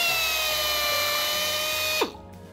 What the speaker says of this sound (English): So now we can drill holes without hurting the airplane or hurting your buddy